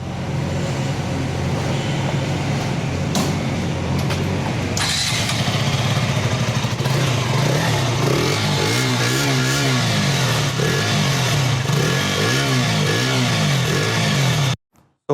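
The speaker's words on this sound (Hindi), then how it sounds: "So now let's start riding this bike" A 2020 KTM RC 200 BS6 motorcycle engine runs loudly throughout a ride, rising and falling with throttle changes and steady revving, then cuts off abruptly at the end; no talk.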